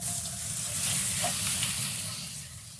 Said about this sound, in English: now I'm going to add the chorizo sausage and brown it.